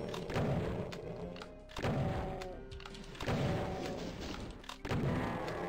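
Super shotgun blasts in Doom II on the Hell Revealed MAP06 level, several heavy booming shots spaced a second or so apart, loud and close amid game sounds.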